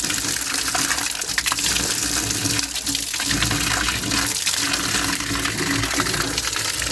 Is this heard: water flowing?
yes